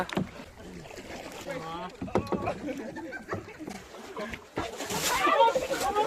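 Oars splash and water sloshes around a small rowing boat stuck in shallow lake water, with people talking and calling nearby throughout; the splashing grows louder toward the end.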